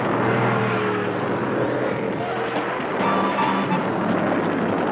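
Stock car racing with modified family sedans, a loud continuous roar of engines racing past, with rising and falling revs and a narrator talking over it.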